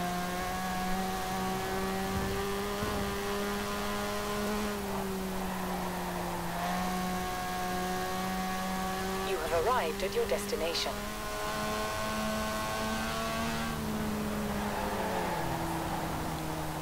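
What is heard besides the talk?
rotary engine revving in video game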